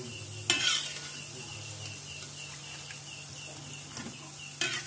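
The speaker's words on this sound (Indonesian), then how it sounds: "Jadi kita goreng sampai berwarna kecoklatan." Vegetable pastries fry in hot oil with a steady low sizzle, broken by a couple of sharper clinks or stirring scrapes near the start and end of the stretch.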